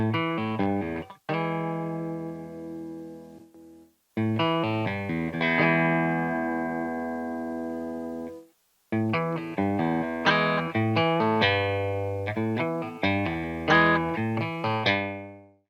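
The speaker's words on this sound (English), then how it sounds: "Gonna mess around with some tones that you can expect with a single P90" Electric guitar with a single P90 pickup, played through drive pedals, gives a driven, distorted tone on chords and short riffs, with brief pauses between phrases.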